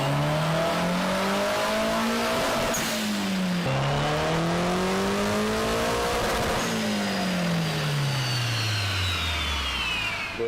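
A tuned car engine revs hard on a dyno, climbing steadily through several long pulls, loud and close, each sweep breaking at a shift before rising again, with no talk.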